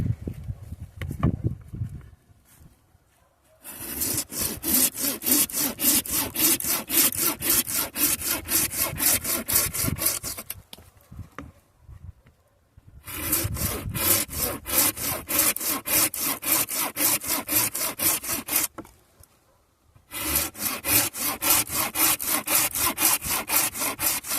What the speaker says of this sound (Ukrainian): нормально пиляє, але я б не сказав би, що ідеально